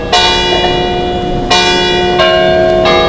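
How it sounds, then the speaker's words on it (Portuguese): A church bell rings out in Jaffa, Israel, loud and close, with several distinct strikes whose bright metallic tones hum and linger between blows. "o sino não vai dar folga pra gente"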